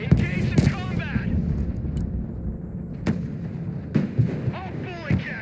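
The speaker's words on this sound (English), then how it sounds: "Their artillery fires volley after volley without repositioning." Artillery volleys in the Broken Arrow war game, Baltic campaign: repeated booming blasts and sharp cracks over a steady rumble of battle, with voices heard in the clip.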